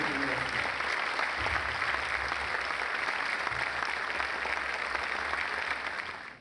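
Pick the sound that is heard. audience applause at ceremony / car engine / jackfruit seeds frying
audience applause at ceremony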